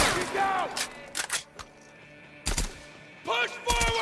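Gunfire in a shooter video game, several short bursts of shots close by, separated by quieter gaps, with a voice talking in between.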